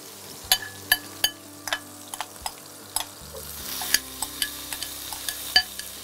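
Onions fry in oil for a Barishal-style boal fish curry with a steady sizzle while a utensil stirs them, knocking sharply against the pan in a loose, repeated rhythm, close and clear.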